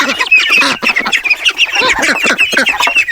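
Farm birds on a small mini farm squawk and clamor continuously, a dense, loud flurry of overlapping calls close by.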